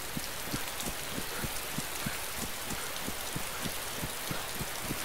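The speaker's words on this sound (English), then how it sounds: "That's fucking rain, man." Heavy rain pours down in a steady hiss, with a regular thumping patter of drops beating on a nearby surface throughout.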